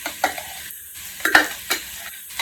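Baby carrots sauté in a pot, giving a soft, steady sizzle broken by a few sharp scrapes and clacks of stirring, with no one talking.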